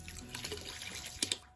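Oxygen base cleaner is poured into water, a soft continuous splashing trickle with a couple of sharper drips near the end, close and fairly quiet.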